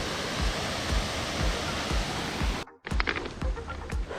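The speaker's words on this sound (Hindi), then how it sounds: "वाटरफॉल से पहले एक और वाटरफॉल" Constant hissing rush of a waterfall along the Dudhsagar trek in Goa, heard up close as broad steady white noise that cuts out abruptly, followed by a brief break, then a choppier rushing noise with clicks.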